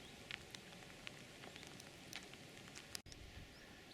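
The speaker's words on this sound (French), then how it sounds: "Une vraie pluie battante." Heavy pouring rain at Saint-Trojan-les-Bains in Charente-Maritime, a steady faint hiss with scattered drop ticks and one sharp click, no voices.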